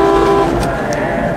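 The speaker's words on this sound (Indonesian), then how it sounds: "Philip menyuruh Butch menyalakan klakson agar mereka membalasnya" A vehicle horn sounds in a loud, sustained honk close by, tone fading out after a moment while a low engine rumble continues underneath.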